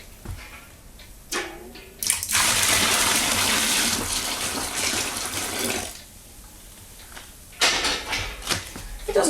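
Boiled water is poured into a vessel while home brewing honey beer: a steady, loud gushing pour lasting several seconds, followed by a pause and then a second shorter splashing pour close by.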